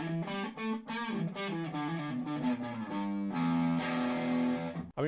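An unplugged electric guitar with a built-in amp plays a distorted riff through its own small speaker, with sustained gritty chords and single notes, a brief drop near the end, and no talk.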